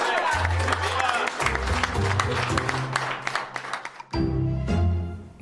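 A crowd claps enthusiastically for the United States ambassador to Mexico while voices shout and cheer over it, the applause briefly dipping before surging again.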